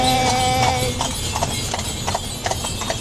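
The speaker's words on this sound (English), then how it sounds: "the horse and cart." Horse hooves clip-clop at a steady walking pace on a hard street in Ponta Delgada, Portugal, pulling a carriage, close by, with a tonal hum and faint background voices.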